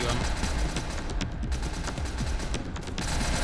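Sustained rapid gunfire blasts through a round of SCP: Secret Laboratory, loud close automatic bursts running almost without pause, with faint voices beneath.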